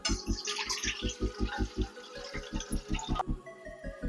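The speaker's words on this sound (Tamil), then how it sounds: "இப்போ இந்த தண்ணியை மட்டும் நம்ம வடிகட்டி எடுத்துக்கலாம்." Water is strained off soaked mappillai samba rice as a close, soft trickle and splash, over a run of rhythmic low thumps, and the pouring stops abruptly near the end.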